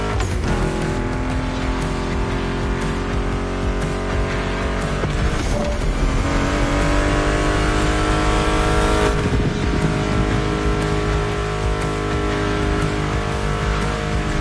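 Car engines roar and rev during a race in The Crew Motorsport video game on PS5, a steady loud drone with rising gear sweeps and a brief tire squeal, with music running underneath.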